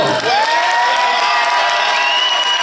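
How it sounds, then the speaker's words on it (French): A film premiere audience applauding and cheering for a young comedy co-writer, a loud dense wash of clapping with shouts and whoops rising over it. "On peut l'applaudir"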